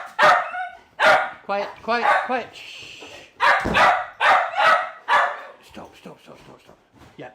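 Dogs bark and yip in short repeated bursts close by, interleaved with a person hushing them and talking over the noise.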